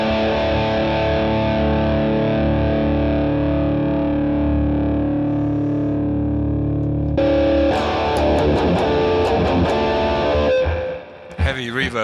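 An electric guitar played through a BOSS GT1000 with heavy reverb, first sustained distorted notes ringing out, then a burst of fast, busy shred runs with a long wash of reverb tail, loud and close.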